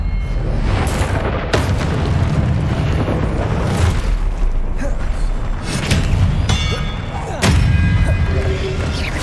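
In Hogwarts Legacy, the Expelliarmus disarming spell is cast in bursts of booming, whooshing impacts, loud and repeated amid ongoing game combat noise.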